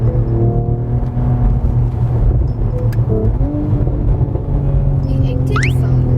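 Steady, loud engine drone inside a Mercedes-AMG CLS53 while driving, its active engine sound humming continuously with a rising tone near the end, a voice speaking over it.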